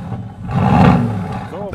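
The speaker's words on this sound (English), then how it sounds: "That's the sound of a real sports car." A Mercedes-AMG GT S sports car's V8 bi-turbo engine gives a brief, loud, throaty rev that swells and fades. A voice talks over it.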